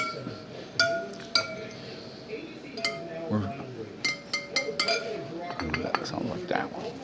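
Spokes of a bicycle wheel are tapped one by one during a spoke check, producing sharp metallic pings and clinks in irregular bursts, close up, with quiet talk in between.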